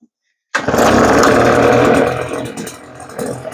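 Husqvarna 350BT backpack blower engine catches after a short silence and runs loudly for a couple of seconds, a close two-stroke roar that eases back toward a lower idle.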